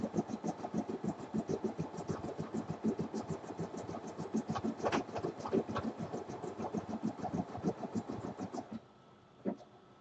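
Embroidery machine stitching a towel, a fast steady mechanical chatter of needle strokes running evenly for several seconds at moderate distance, then easing off into a quieter hum near the end.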